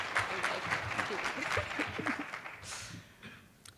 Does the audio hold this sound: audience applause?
yes